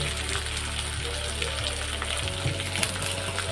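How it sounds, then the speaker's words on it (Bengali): Diced potatoes frying with tomato and turmeric in a pan for a Bengali chichinge aloo posto dish, a steady sizzle with faint stirring scrapes throughout and no talk. "যাতে টমেটোটা আলুর সাথে ভাজা হয়।"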